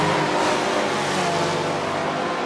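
Race car engines in Forza Motorsport 7 at Watkins Glen, with a Ferrari 599XX passing a Corvette ZR1: a dense, continuous high-revving roar, loud and close, with no speech.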